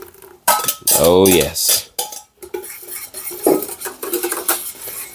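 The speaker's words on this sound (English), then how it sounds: "Give it a stir." Utensil scraping and clinking around a pan as a custard-like mixture for a Swedish princess cake is stirred, loud metallic clatter with a brief spoken word in the middle.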